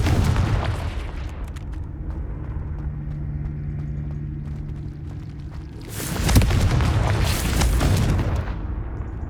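A Confringo blasting spell explodes in Hogwarts Legacy, a sudden loud broadband burst with rumbling tail breaking over a steady low game rumble.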